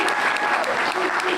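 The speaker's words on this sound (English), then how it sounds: "Let's give him a big round of applause." A crowd at a mayoral proclamation ceremony applauds with steady clapping throughout, dense and fairly close.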